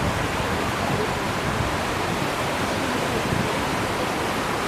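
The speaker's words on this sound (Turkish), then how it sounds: "Akon Şelalesi diye geçiyor." Akon Waterfall in Abkhazia roars as a steady broadband rush of falling water, continuous and fairly loud, with no voices or other sounds.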